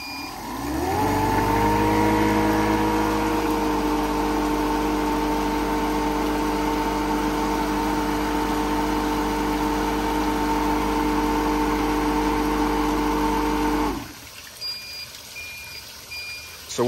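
An HVAC refrigerant recovery machine in self-purge mode spins up, then runs loud and close with a steady droning motor hum and a sustained whine for about thirteen seconds before shutting down.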